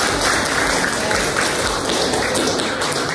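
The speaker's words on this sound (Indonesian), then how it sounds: "Beri aplaus dulu untuk semua" A classroom audience applauds together, a dense, steady wash of clapping that holds at an even loudness throughout with no voices over it.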